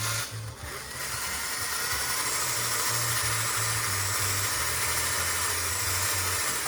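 A small handheld power tool whirs steadily while polishing a guitar headstock, a close continuous motor hum with a pulsing low tone and hiss of buffing, no talking.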